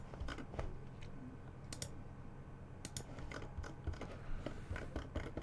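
Fingers type on a computer keyboard at a workbench, producing faint, scattered key clicks in irregular bursts over a low background hum.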